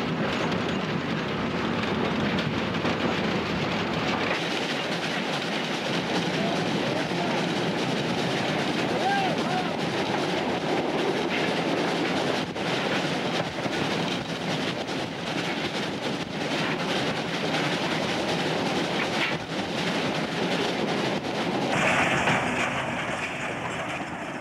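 From inside the cab of a steam locomotive running between Wongarbon and Dubbo in New South Wales, a loud, steady roar of engine and rolling wheels continues throughout, with rhythmic rattling and a brief change in tone near the end.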